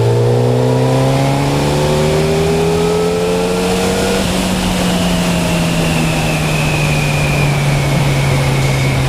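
A Yamaha FZ1 motorcycle accelerating at partial throttle, a loud close engine note rising steadily through the revs, then easing into a lower steady drone after a gear change, with no talking.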